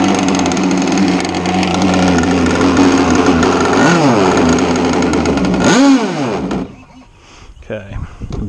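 A Zippkits SLR Thunderboat RC boat engine runs loud and continuous with a buzzing, harmonic-rich drone, its pitch dipping and rising as the idle is adjusted, then cutting out near the end with brief faint sputters.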